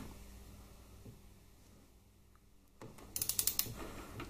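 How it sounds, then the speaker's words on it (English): A torque wrench tightens the oil filter mounting bolts on a Harley Twin Cam 88ci engine, giving a quick run of sharp ratcheting clicks near the end after a quiet stretch of room noise. "These oil filter mounting bolts torque up to 22 Newton meters, but I always just torque them up to 20"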